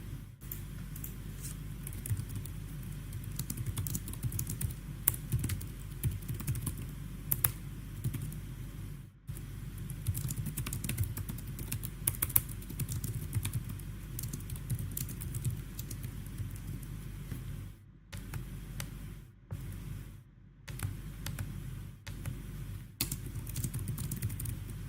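Steady clicking of a computer keyboard during a live forex gold trading session, with fast bursts of keystrokes and brief pauses, close and fairly loud over a low background hum.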